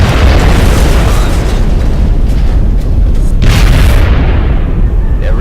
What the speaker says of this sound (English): I'm gonna get caught in the explosion of the vehicle.